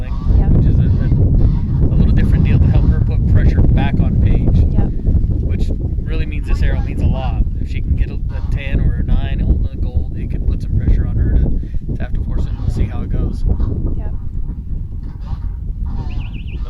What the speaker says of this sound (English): wind is just whipping